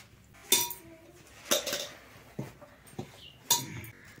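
Chopped Chinese mustard greens (cheena rai saag) go into a pressure cooker holding a little water, with a few sharp metallic clinks and clatters of utensil on pot at spaced intervals, close by.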